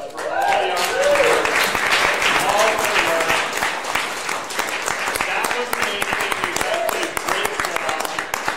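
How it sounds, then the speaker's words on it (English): A large audience at a youth pitch competition gives sustained, dense applause for the young participants, loud and steady throughout with a few cheers mixed in. "give a massive round of applause for all the young people"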